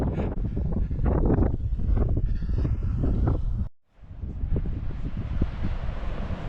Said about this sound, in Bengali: খুব ঠান্ডা হাওয়া।